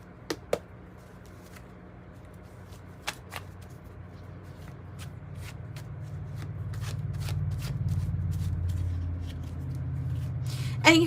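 Tarot cards being shuffled by hand, a soft continuous riffling that builds and thickens over several seconds, punctuated by a few sharp taps and clicks, close and clear with no talking.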